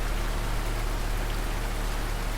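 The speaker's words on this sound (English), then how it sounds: "I'm standing there, getting drenched in the downpour" Heavy rain downpour in a coastal cove setting, a steady dense hiss filling the scene evenly and continuously throughout, with no voices present.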